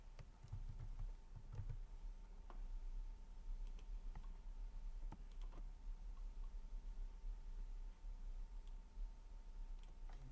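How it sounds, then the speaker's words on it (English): Keys clatter on a computer keyboard in a quiet room, with soft, irregular taps and a few sharper clicks, faint and close, over a low steady hum. "I'll type something else again"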